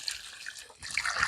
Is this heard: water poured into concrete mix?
yes